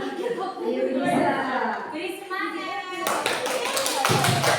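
A classroom group does tepuk semangat, rhythmic clapping that starts under a woman's speech and children's voices and then becomes a burst of crisp, fast, close hand claps.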